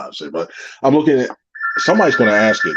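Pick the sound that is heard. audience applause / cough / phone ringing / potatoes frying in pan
phone ringing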